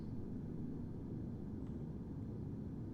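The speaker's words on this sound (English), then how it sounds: "we're going to use our own Starship noise, which sounds like this" Custom starship background noise for a space base-building survival game, a steady deep rumbling hum that stays low and even throughout without any change.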